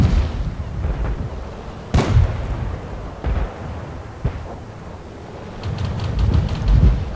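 Tank shells striking an S-35 tank in World of Tanks, fired from a Lorraine 39L AM self-propelled gun: several sharp booming impacts spaced a second or so apart over a rumbling battle background.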